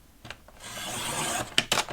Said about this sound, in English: And I'm using my trimmer.